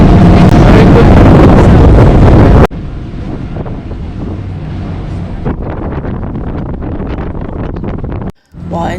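Ferry ride on a river in Amsterdam, with loud wind buffeting and a steady engine and water rumble that drops to a quieter hum partway through, then cuts out briefly near the end.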